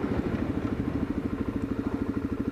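A motorcycle runs at a steady, fast-pulsing engine rumble, loud and close, as if heard from the rider's seat while riding, with no voices.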